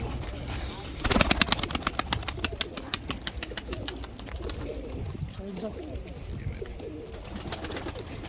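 Tumbler pigeons in a loft, with a burst of rapid wing-flapping and soft cooing from the flock, while people talk nearby throughout.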